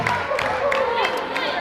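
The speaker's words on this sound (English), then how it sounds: "Crowd reacts." Spectators at a girls varsity high school basketball game in a gym, West Rutland against Twin Valley, murmur and call out in a steady reverberant crowd reaction, with squeaky echoes repeating throughout the short stretch.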